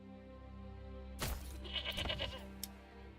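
Goats bleating in the medieval city-building game Manor Lords, one short wavering bleat rising over a quiet ambient background, faint and fairly distant.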